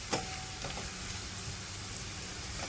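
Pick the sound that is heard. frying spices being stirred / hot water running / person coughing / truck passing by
frying spices being stirred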